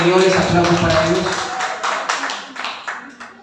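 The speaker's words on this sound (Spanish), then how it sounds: "Aplausos para Dios." Applause during a church teaching session, a burst of close, fairly loud clapping from a small crowd, with voices mixed in, thinning into scattered claps as it fades.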